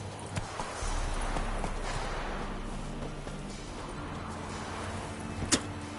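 Hooves of Roach, Geralt's horse in The Witcher 3, clop along at a steady walking pace over a constant low rumble of game ambience, with a brief sharp knock near the end.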